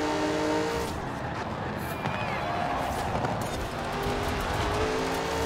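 Engine drone and road noise from a car driven in Forza Horizon 4, a comfort-tuned build with extra performance, running steadily and loudly throughout with faint tire noise.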